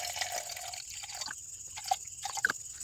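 Distilled water dripping onto silver contacts salvaged from a 400 amp circuit breaker, a few distinct drips and plinks at irregular intervals over a faint background hiss, close up.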